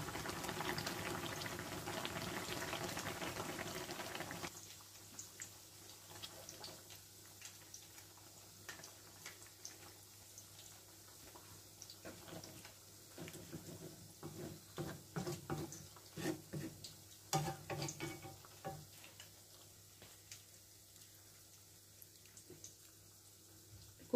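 A pot of fish curry simmers with coriander leaves on top, a steady bubbling boil that is fairly loud at first, then quieter with scattered ticks and small pops, and no voices.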